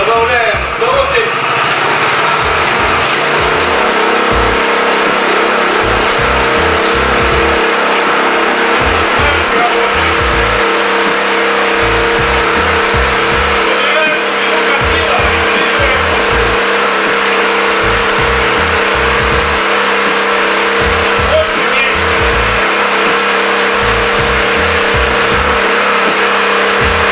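Samsan petrol tiller engine running loud and close as throttle is added, its pitch and pace rising into a steady, rapidly pulsing roar with no voices.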